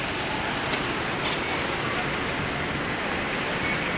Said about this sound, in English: Well, this is the traffic